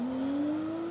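A Porsche 997 Rally GT on a rally stage, heard as a steady high engine note rising slowly in pitch as it accelerates, loud and sustained for about a second with no talk.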